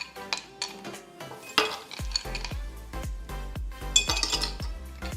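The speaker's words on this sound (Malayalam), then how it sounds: "അപ്പോൾ ആദ്യം 2 ഗ്ലാസ്സിലും കുറേശ്ശെ ഐസ് ഇടുകയാണ് ഞാൻ." Ice cubes drop into two glasses for rose apple juice, a series of sharp, close clinks and clatters that come in quick bursts, then settle into a run of distinct rattling knocks.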